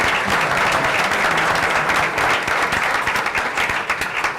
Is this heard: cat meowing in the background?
no